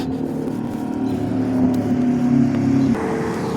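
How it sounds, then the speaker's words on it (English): A motorcycle passes along a street at night during a Fourth of July walk by a canal, its steady engine drone holding close and loud for about three seconds before dropping off sharply as it goes by. "So we have a motorcycle coming through."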